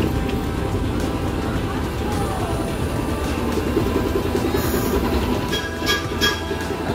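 Low rumbling of a train fills the scene, steady and fairly loud, with faint clanks and a brief high squeal near the end.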